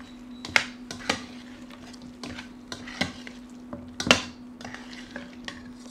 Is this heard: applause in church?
no